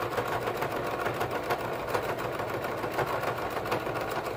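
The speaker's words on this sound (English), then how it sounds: "I'm going to backstitch" Sewing machine stitching a seam in fabric with backstitching, a close, steady rapid mechanical whirr and needle clatter running continuously without pause.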